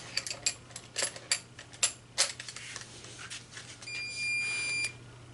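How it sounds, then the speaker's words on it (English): A torque wrench being worked on a Volkswagen diesel cylinder head, a series of sharp ratcheting clicks in uneven bursts, followed by a short electronic beep-like tone. "Now we're going to get the torque wrench."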